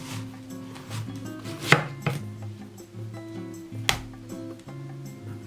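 A knife cuts through a melon on a board in close, irregular chops and thuds, with a couple of sharper knocks against the board and no talk.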